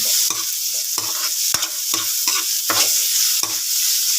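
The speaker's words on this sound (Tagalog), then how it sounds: "igisa-gisa lang natin guys ng konti ang ating sibuyas, bawang at luya" Onion, garlic and ginger sautéed in a pan, with repeated scraping stirs of a spatula at an uneven rhythm over a continuous sizzle, close and clear with no talk.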